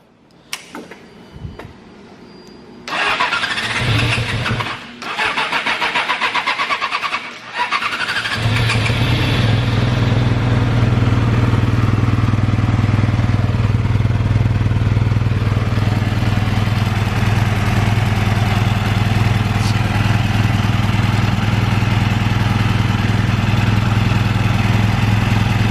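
A Yamaha R6 sport motorcycle with a bad coil pack, running on only two of its four cylinders, cranks over after a few clicks and starts, then settles into a rough, uneven, loud idle that continues steadily.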